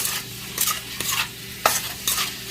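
Shrimp and garlic being stirred in a hot frying pan, with a continuous close sizzle and a few scraping strokes of the utensil against the pan.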